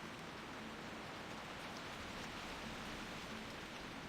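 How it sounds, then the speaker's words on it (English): Steady rain falling in the World of Warcraft Ascension game world, a constant even hiss of rainfall on surfaces with no talk over it. "I hate the sound of rain in this game"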